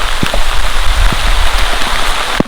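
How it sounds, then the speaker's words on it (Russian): Heavy rain pours in a forest during a thunderstorm, a loud dense hiss of drops hitting surfaces with a few sharper nearby splats, continuous and close, with no voices. "Да, прям дождик хороший зарядил."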